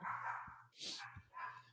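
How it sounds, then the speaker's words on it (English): A guard dog barks in the distance, a few muffled barks fading in and out under faint low background noise. "The guard dog's going off."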